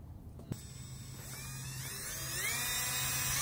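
A power drill bores a hole through the rail of an older Prinsu roof rack, starting after a sharp click and whining as it spins up and builds steadily louder, close by and with no talk.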